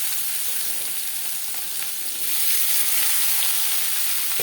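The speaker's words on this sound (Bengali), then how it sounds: "তাতে দিয়ে দিয়েছি 3 চামচ রিফাইন্ড অয়েল। এবার দিয়ে দিলাম পেঁয়াজ টমেটো।" Chopped onions and tomatoes fry in three spoons of refined oil in a kadai for a Bata fish curry gravy, a dense close hiss that grows louder halfway through, with no speech.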